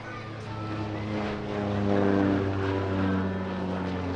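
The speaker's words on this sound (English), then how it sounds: "The AN-2 first flew in 1947, so it's a testament to this extraordinary, rugged design that so many of them are still flying today." An Antonov An-2 biplane flies past at an airshow, its piston engine and propeller producing a loud, steady droning hum with strong low harmonics that swells slightly midway and holds throughout.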